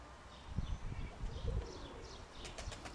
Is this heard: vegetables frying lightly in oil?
no